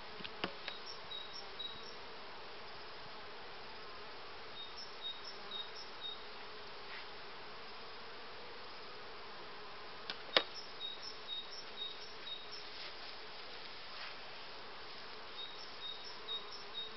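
Carpathian honeybees that wintered outdoors hum steadily around an open hive during a spring inspection, a soft, even buzz throughout with a few faint clicks of handling.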